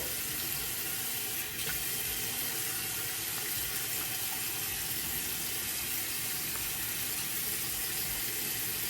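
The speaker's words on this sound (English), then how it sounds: "So I'm just gonna wet my face a little bit." Tap water runs steadily into a bathroom sink while a face is wetted, a constant close, even hiss of flowing water with no talking.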